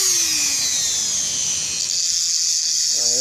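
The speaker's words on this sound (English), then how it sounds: "It's just like a little spinning file." A rotary tool with a small spinning file tip working on a Damascus pen during assembly, giving a steady high-pitched whine that holds close and loud, with pitch dipping briefly near the end.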